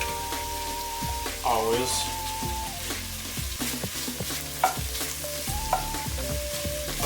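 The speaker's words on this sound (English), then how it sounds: "Just add a little hunk of butter to that. Unsalted butter." A hunk of unsalted butter melts and sizzles in a pan, a steady crackling hiss with small pops and scraping, while a voice speaks briefly.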